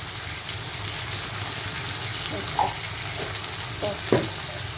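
Ginger, cumin and green chilli spice paste stir-fried in a pan for a Bengali fish curry with potato, a steady close sizzle with a few soft scraping stirs and clinks, no voices.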